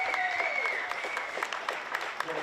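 Stadium crowd applauding after a goal at a women's youth football match against Vanuatu, a continuous, fairly distant wash of clapping with crisp individual claps and a sustained whistle-like tone over it.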